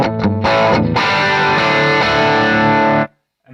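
High-gain distorted electric guitar through an amp with the gain near seven: a few choppy chords, then one loud sustained chord ringing for about three seconds before cutting off abruptly.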